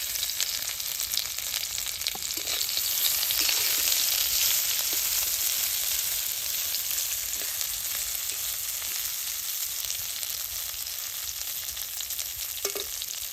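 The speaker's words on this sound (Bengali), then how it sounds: "মাছটি এখন বেশ সুন্দর করে ভাজা নেব।" Dried fish frying in a little oil in a pan, a dense, even sizzle with light crackling and occasional stirring taps, steady and close throughout without any voices.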